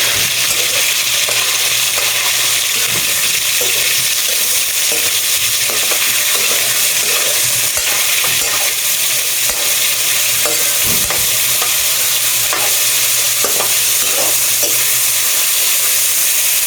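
Pork sautéing and browning in a hot pan, a steady loud sizzle with occasional stirring scrapes and clinks throughout, no talking.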